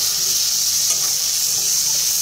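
Potatoes fry in a pan with a steady, close sizzle and crackle that stays even throughout, with faint stirring and no voices.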